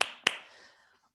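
One person claps twice in a quiet lecture room after a mathematics workshop talk, two sharp, close slaps about a quarter second apart with a short ringing tail.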